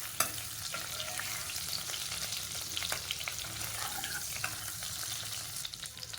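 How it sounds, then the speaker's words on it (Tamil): Mace, star anise and bay leaf fry in hot oil, giving a continuous close sizzle with fine crackles and a few small pops scattered through it. "இது பொரியணும். இது பொரிஞ்சதுக்கப்புறம் இதில் வந்து பிரியாணி இலை வந்து சேர்த்துக்கிறேன்."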